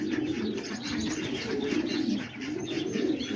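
Homing pigeons coo up close in a loft, two throaty rolling phrases with a short pause between them, steady and fairly loud.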